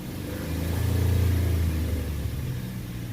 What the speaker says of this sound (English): let me try giving it a little bit of gas here